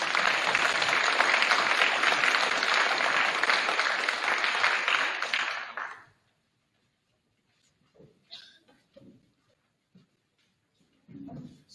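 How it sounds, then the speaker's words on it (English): An audience at an academic banquet applauds, giving about six seconds of dense, steady clapping that stops abruptly and leaves a few scattered faint sounds in near-silence. "Please give these guys a round of applause."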